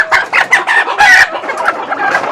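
A two-year-old caged desi chicken clucks close up in a rapid, choppy series of calls, with one louder, drawn-out squawk in the middle.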